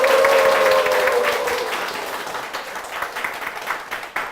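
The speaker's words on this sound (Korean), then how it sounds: "박수로 맞아주시기 바랍니다" An audience at a church show breaks into loud, dense applause to welcome a guest, starting full and gradually thinning out, with a little crowd noise.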